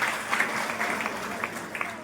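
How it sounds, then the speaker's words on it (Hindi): Audience applause after a request for loud clapping at a Jyoti Kalash Rath Yatra puja gathering in Manphoda, Jansath, Muzaffarnagar; steady clapping runs throughout at moderate level. "जोरदार ताली बजाइए"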